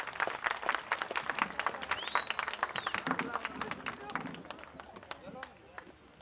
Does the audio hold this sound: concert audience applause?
yes